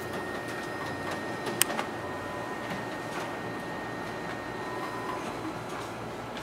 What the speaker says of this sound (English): Here we have our document feeder working.